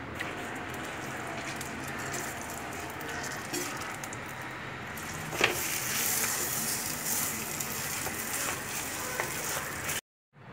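Ragi dough stirred in a little sesame oil in a kadai on the stove makes a close, continuous sizzle and scraping, brightening and thickening midway, with no one talking.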